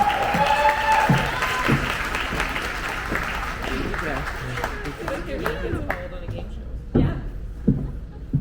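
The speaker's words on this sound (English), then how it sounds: "Give him a round of applause." Crowd at an evening event with the county sheriff claps steadily to welcome a speaker walking up, a dense, fairly loud applause that thins toward the end into scattered individual claps.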